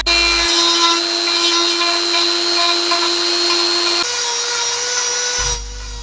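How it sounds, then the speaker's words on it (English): A die grinder fitted with a small, fine wood-carving bit shapes a wooden handle, giving a loud, steady high-pitched motor whine that drops in pitch partway through and then winds down near the end. "I then shape the harder to reach spots with my die grinder with a small,"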